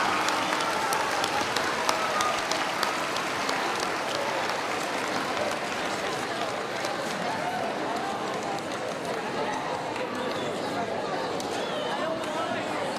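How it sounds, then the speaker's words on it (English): An audience at a middle school event applauds its teachers, a dense, even spread of clapping that carries on for about thirteen seconds, with crowd murmur mixed in. "can we just give our teachers one more round of applause?"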